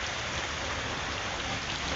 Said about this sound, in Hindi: बहुत ज़्यादा बारिश हो रहा है दोस्तों।